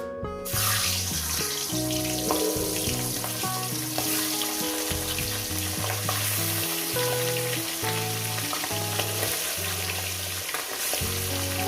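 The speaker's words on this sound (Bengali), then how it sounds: "আমার তেলটা গরম হয়ে গেছে আমি মাছগুলো এক এক করে দিয়ে দেবো" Catla fish pieces fry in hot oil with a loud continuous sizzle and crackle, close up and unbroken, while music plays in the background.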